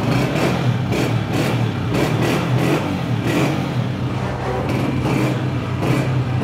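A 2020 Honda 125 motorcycle runs at a used-bike dealer, its engine giving a steady, close, rough thrumming with a busy outdoor background, no voices over it.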